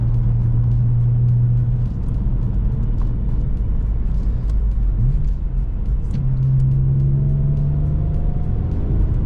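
Alfa Romeo Brera 3.2L V6 JTS Q4 driving: a steady low engine rumble inside the cabin, with engine tones that rise and hold as it accelerates smoothly, and road noise underneath.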